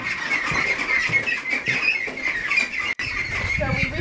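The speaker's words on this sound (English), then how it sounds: "You can hear the ducks making noise in the background." Ducks on a homestead squawk and quack in the background on a morning, a steady chattering layer of calls with faint ambient noise and brief gaps.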